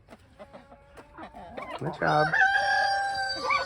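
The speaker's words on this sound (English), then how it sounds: "Hello, little molting hen." A molting hen and other chickens cluck in a family greenhouse while a rooster crows loudly and close by, its call rising over the clucking during the second half; a person speaks briefly beneath it.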